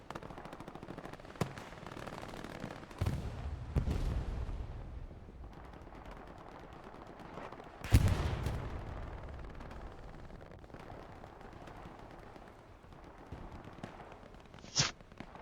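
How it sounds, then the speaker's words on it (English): A satchel charge blows up in the World War II shooter Hell Let Loose: a sharp, heavy blast rises out of quieter distant gunfire and booms, followed by a rumbling decay, with further scattered shots around it. "Big explosion, I'm assuming satchel for, yes, the artillery or the AT gun."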